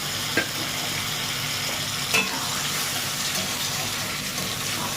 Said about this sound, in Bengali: এখানে যে মশলা ধোয়া জলটা ছিল ওটা আমি ঢেলে দিচ্ছি